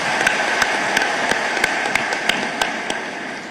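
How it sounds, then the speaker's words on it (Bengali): Audience applause at a formal gathering in Bangladesh, a steady dense wash of clapping with a few sharper individual claps standing out at a regular pace, fairly loud and continuous with no voices over it. "জোরে হাততালি দিয়ে আমরা একটা ধন্যবাদ জানাই।"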